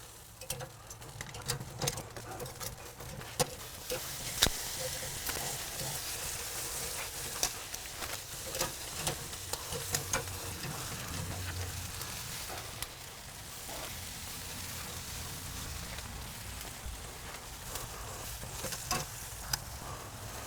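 Smoked sausages sizzle on a Big Joe grill, a steady, close crackling patter with small pops running throughout and no talking.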